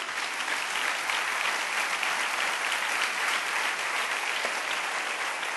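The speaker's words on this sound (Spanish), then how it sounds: "Dale un aplauso al Rey bendito." A church congregation claps together in sustained, dense applause that holds steady and loud from start to finish, with no voices rising above it.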